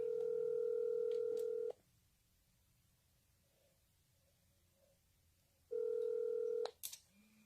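Phone call ringback tone: two loud, steady electronic beeps, each about a second and a half long, separated by a long quiet gap. It is heard alone, close and clear, with a faint click at the end.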